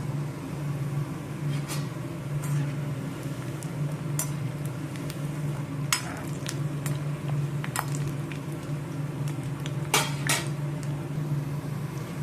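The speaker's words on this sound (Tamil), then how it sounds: "மிதமான தீயில் வச்சு நல்லா ஒரு கோல்டன் கலருக்கு ஃப்ரை பண்ணிக்கணும்" Vada pieces fry in oil on a medium flame until golden, a steady low bubbling sizzle broken by scattered sharp pops and crackles.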